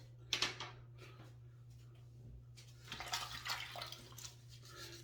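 Water splashes and runs as shaving cream is rinsed off a face at a sink, with a short splash near the start and a longer stretch of running and splashing later over a steady low hum. Nobody speaks.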